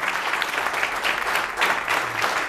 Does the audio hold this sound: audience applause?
yes